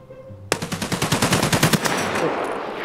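Automatic gunfire in the Escape From Tarkov video game, one sudden loud, close burst of rapid shots lasting about a second and a half, then a fading echo.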